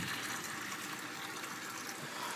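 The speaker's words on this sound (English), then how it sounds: "turning this valve, letting the siphon kick in, and it fills up my garbage bucket" Steady rushing flow of water from a siphon filling a garbage bucket during an aquarium water change, a continuous broadband gush with no pauses, moderately quiet and alone.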